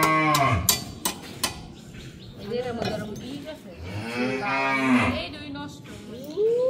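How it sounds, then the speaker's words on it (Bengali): A farm cow bellows loudly for food, with repeated long, drawn-out moos close to the microphone and short pauses between calls. "আর এদিক দিয়ে আমাদের গরু চিৎকার ফাটতেছে খাবার খাওয়ার জন্য।"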